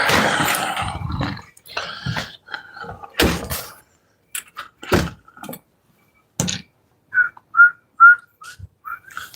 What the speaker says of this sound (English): it sounds like crickets are whistling